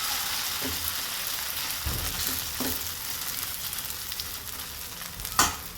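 Sesame seeds, curry leaves and cumin hitting hot oil for a Gujarati dunkila tempering: a soft, steady sizzle broken by several light taps and a sharper clack near the end.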